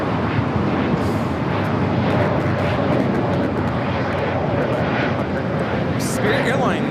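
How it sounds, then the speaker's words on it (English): A Spirit Airlines Airbus A320neo taking off on a flight to Louisville at LAX produces a continuous broadband engine rumble. Faint talk and a few sharp clicks and bursts sit over it. "Spirit Airlines 2526 taking off to Louisville on the A320neo"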